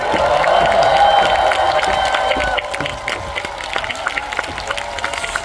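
Audience at an outdoor autumn concert on the Gyeongchun Line Forest Trail, clapping and cheering for a bass player after his introduction, a crowd wash over lingering music that thins out midway.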